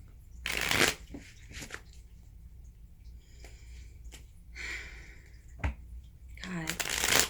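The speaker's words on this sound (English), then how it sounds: "stick around while I shuffle these up real quick" Tarot cards being shuffled up close: several quick riffling bursts between quieter handling rustles and soft taps, with light breathing audible.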